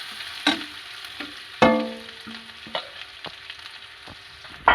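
Garlic and chopped onion frying in a pan give a low, steady sizzle, punctuated by a few sharp utensil knocks and clinks against the pan, up close with no talking.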